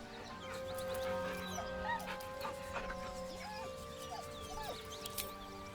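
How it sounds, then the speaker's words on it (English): A dog whining in Baldur's Gate 3, heard as repeated high, wavering whimpers and yips over a sustained musical drone, fairly close and moderately loud. "He whines, but remains rooted by the corpse's side."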